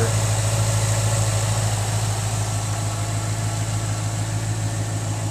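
A 2011 Mustang GT V8 idles steadily up close, a deep even burble with strong low hum and no clear rev rise, nobody talking over it.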